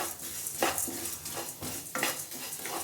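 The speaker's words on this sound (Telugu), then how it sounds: "వేసి వేపుకుందాం" Cumin seeds frying in a pan while making a curry leaf spice powder, a soft steady sizzle with repeated stirring scrapes and light clinks of a spoon against the pan, close and moderately quiet.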